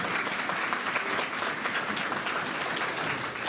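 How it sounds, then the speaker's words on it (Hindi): An audience at a government college event in Chamba gives steady, sustained applause to welcome a guest, a dense wash of many hands clapping at moderate distance with no voices on top. "जोरदार तालियां बजा के मैं उनका स्वागत करूं"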